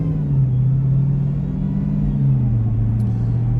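Dodge Demon 170 engine holding a gear under acceleration, a deep continuous rumbling drone that rises and falls slightly in pitch, loud and close from inside the car, with no talking.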